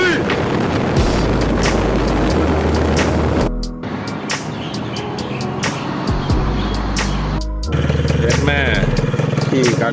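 A motorcycle being ridden during its break-in run on a long solo road trip gives a loud, continuous engine drone with heavy wind buffeting on the microphone and brief shifts in pitch.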